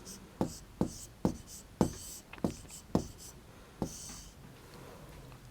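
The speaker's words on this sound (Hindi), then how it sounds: "इसको अब हम हिंदी में लिखेंगे" Numbers are written by hand during a class 3 maths lesson, a series of about ten distinct scratchy strokes and taps on the page, close and fairly quiet, with no speech over them.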